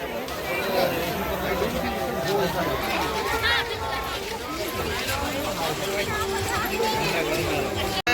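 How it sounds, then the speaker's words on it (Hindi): A large festival crowd at the Ulunda Dhanuyatra fair fills the air with constant dense chatter and babble, a busy hubbub with nearby voices talking throughout. "देखी पा बहुत भीड़ देखी पा पूरा जनसमुद्र"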